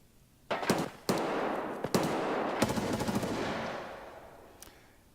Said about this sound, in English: Sorry about the gunshots. I can't control those.